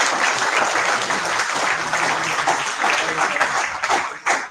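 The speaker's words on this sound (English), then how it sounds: "a great round of applause" A hall full of people at an awards ceremony during an international conference's valedictory session claps steadily and briskly, a dense, even wash of applause that fades slightly at the very end.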